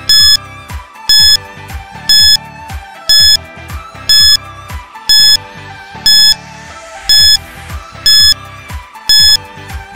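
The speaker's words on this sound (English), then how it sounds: "Your timer starts now." Quiz countdown timer sounding on a classroom drill, a loud electronic beep pulsing about once per second for the full stretch, each beep paired with a ticking thump underneath, with no talk.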